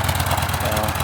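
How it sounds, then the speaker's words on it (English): A Yamaha XV950 motorcycle with its engine running, giving a steady, loud, throbbing exhaust note with a low pulsing rumble throughout. "Engine exhaust note, sounds reasonable, but could do with a decent"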